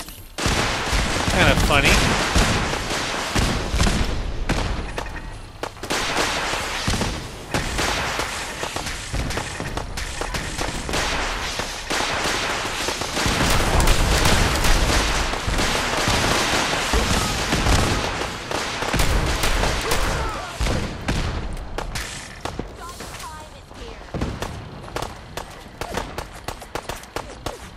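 Dense, continuous gunfire from automated defensive guns in Fallout 4: Far Harbor, loud and sustained with bursts throughout, mixed with game effects and someone talking over it.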